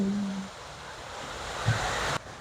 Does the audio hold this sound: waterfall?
yes